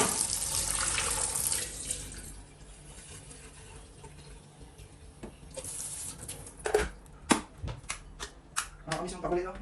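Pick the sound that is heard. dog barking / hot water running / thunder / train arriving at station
hot water running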